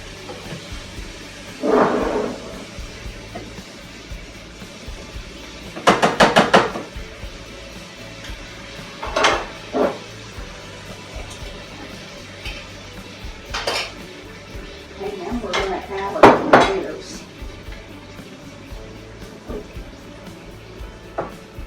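Tex-Mex pork chop casserole ingredients mixed in a dish, giving scattered clinks and scrapes of utensil against cookware, a few close bursts spaced across the stretch with quiet gaps between.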